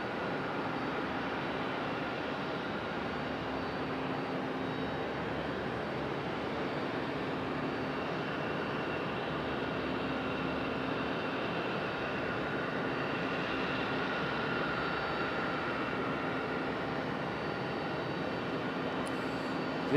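A Frontier Airbus A321neo jet sits with engines running at Raleigh-Durham airport, a faint, steady distant whine and rumble holding evenly without a break and with no talk.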